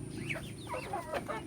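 Native chickens cluck in short, overlapping calls, close by, over a low steady background hum.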